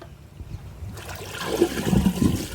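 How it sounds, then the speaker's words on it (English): Water drains away down a newly unblocked waste water pipe, starting with a sudden gush and then gurgling and trickling close by, fairly loud and with no voices. "there's no blockage anymore that I can see, because the water disappears straight away"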